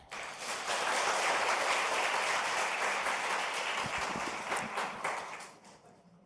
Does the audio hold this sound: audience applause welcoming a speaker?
yes